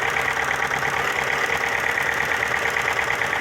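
Fiat Seicento engine idling roughly while misfiring on one cylinder, a loud, close, steady uneven knocking pulse with no voices.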